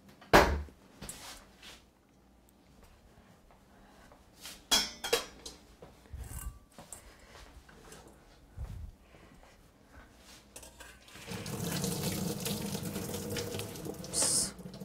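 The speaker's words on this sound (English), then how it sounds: "Okay, so I need to strain it." Pasta is drained through a strainer at a kitchen sink: scattered clanks of pots and utensils, then a rush of pouring water toward the end, close and moderately loud.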